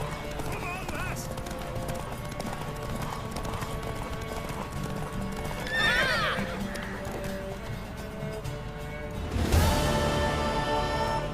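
Horse hooves clip-clop over ground in Witcher 3 while a horse neighs now and then, with game music and character voices talking over the sounds throughout.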